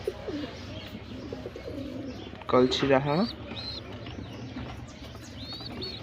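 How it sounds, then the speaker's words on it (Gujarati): Young pigeons around a home loft make soft coos, then a loud, close burst of throaty cooing rises in the middle of the recording. A person talks quietly before and after it. "કબૂતર ભેગું રખડવા જાય ખરા."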